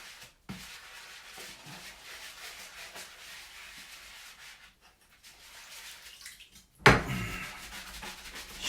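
A bathtub is scrubbed by hand, giving soft continuous rubbing and brushing strokes, fairly faint and close, with short pauses and one louder scraping burst near the end.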